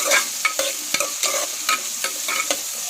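A spoon stirs chili curry in a hot pan in a close, steady rhythm of scraping strokes over continuous sizzling and frying, with no speech.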